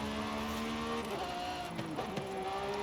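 A Lamborghini Revuelto engine in Forza Horizon 5 revs with a raspy exhaust note, pitch rising and falling steadily, loud and close, with faint tire noise in the background.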